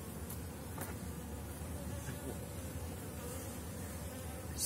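A dense, continuous buzz of many honeybees flying around a hive entrance, a steady droning hum with occasional individual bees zipping past.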